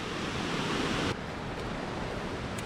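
Sawblade Falls, a large waterfall on a hiking trail: a broad, constant roar of rushing water heard at moderate level, which drops slightly in loudness partway through and then carries on steady.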